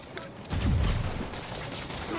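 Thugs open up with gunfire in Marvel's Spider-Man Remastered, a dense, continuous burst of shots and booming low rumble lasting a couple of seconds, loud and close with no clear talk.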